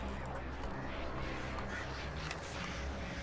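Attacking birds swarm in the horror video game Alan Wake, their harsh caws blending into a dense, noisy wash of flapping and game effects that stays loud throughout, with no speech.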